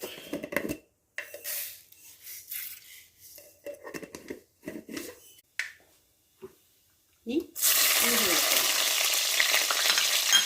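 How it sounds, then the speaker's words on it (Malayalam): Mustard seeds splutter and pop in hot oil in a home kitchen while a Kerala prawn roast curry is cooked, first as scattered crackles between pauses, then a loud, steady sizzle for the final few seconds. "എണ്ണ ചൂടായാൽ നമ്മൾക്ക് കടുകിട്ട് കൊടുക്കാൻ പോവാണേ"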